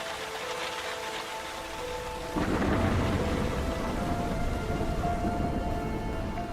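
Near-freezing rain turning to sleet in polar country makes a steady dense hiss that thickens into a heavier, louder wash midway, a continuous downpour with no voices.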